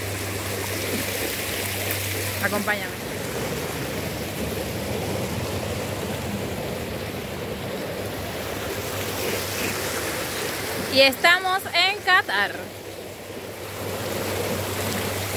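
Water flows near The Torch in Doha, Qatar, a constant, rushing wash that fills the whole stretch, with a voice speaking briefly and a short cluster of higher chirping sounds near the end.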